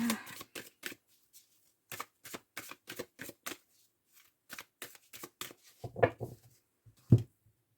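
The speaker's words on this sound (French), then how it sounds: "On va faire donc un tirage aussi en 9 cartes." Tarot cards are shuffled for a nine-card spread in a series of quick papery riffles and bursts, close and fairly quiet, with short pauses between them and a few soft taps near the end.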